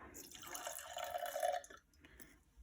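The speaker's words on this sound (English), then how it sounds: "then I'm going to pour in my water" Water pours into a bowl in a brief, soft stream with a gurgling, filling tone, then trails off into a few faint drips.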